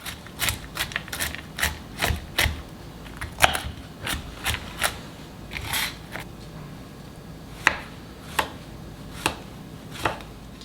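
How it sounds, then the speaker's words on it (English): A knife chops spinach and pecans on a cutting board, with sharp, quick close-up strikes in irregular bursts followed by slower, spaced single chops, and no talking. "I'm gonna add the spinach and start chopping"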